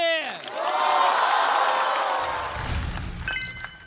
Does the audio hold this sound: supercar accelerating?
no